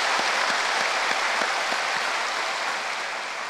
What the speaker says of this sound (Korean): 다시 한번 우리 감사의 박수 하겠습니다.